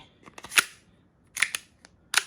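Metal clicks and snaps sound at close range as the pin lever is rocked into its locked position on a WE Galaxy Glock 18 gas blowback airsoft pistol, three crisp bursts of clacks with short quiet gaps between them.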